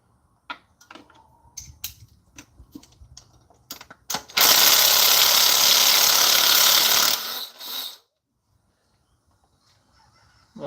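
Old Snap-on electric power tool whirring loudly for about four seconds during a Toyota Tundra starter swap, preceded by scattered clicks and clanks of hand tools and parts, then winding down to quiet.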